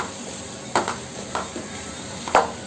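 Three large chopped onions stirred in a pan, with a few separate scraping knocks of a spoon against the metal over a quiet steady background.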